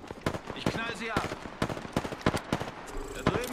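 Rapid bursts of Apex Legends gunfire crack in uneven volleys, sharp and punchy, with a voice talking between the shots.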